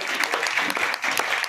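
An audience at a Bharat function hall event claps loudly and continuously in dense, steady applause with no voices over it.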